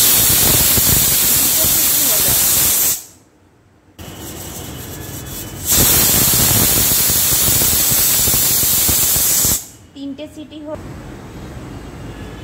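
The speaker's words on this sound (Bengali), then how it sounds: "তিনটে সিটি হলো, এবার গ্যাসটা অফ করে দিয়েছি।" Pressure cooker whistles while mutton curry cooks, a loud sustained hissing steam release that cuts off, resumes, then breaks into sputtering bursts near the end.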